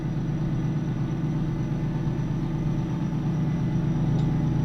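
A Mack R semi truck with a two-stroke diesel engine in American Truck Simulator drones with a deep, steady rumble, constant and close with no change in pace.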